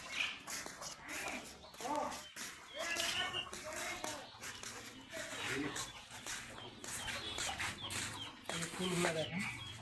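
Chickens cluck and shuffle inside a garden-house chicken coop, scattered close calls mixed with people talking nearby.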